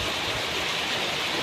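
Swollen river in Mariveles, Bataan rushing during heavy typhoon rain, a dense, loud, continuous roar of churning water filling the whole moment.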